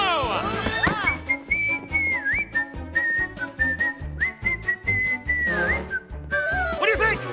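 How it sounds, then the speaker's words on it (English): A whistled melody carries the solo in a cheerful cartoon family song, a bright sustained line with slides and trills riding over steady bouncy backing music and drums for several seconds. "Whistle solo!"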